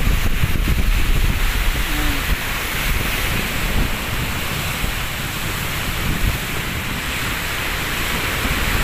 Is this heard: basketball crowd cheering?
no